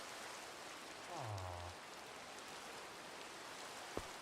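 Rain falls steadily in the Minecraft video game, a soft even hiss throughout, with a brief low tone partway through and a single sharp click near the end.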